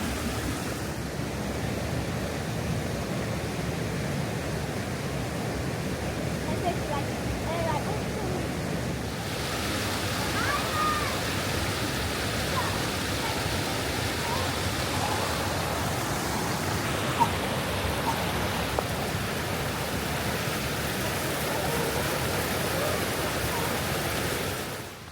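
Steady rush of flowing water beside a path in a nature reserve, a broad constant hiss heard close by, unbroken throughout with occasional faint wind buffeting.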